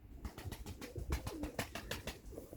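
White pigeon cooing up close in a bird market, soft throaty coos mixed with rapid fluttering and shuffling taps as it moves about, no talk.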